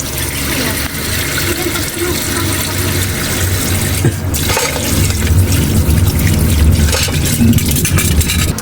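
Water runs steadily from a tap while dishes are washed in a dim outdoor washing area, a continuous loud splashing rush with faint clatter throughout.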